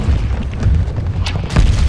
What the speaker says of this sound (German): So, ein Luftschlag angefordert.